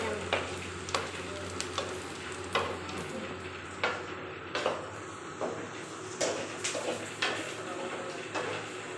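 Cassava pieces frying in hot oil while being stirred, a steady bubbling sizzle broken by regular sharp scrapes of a spoon against the pan, close up.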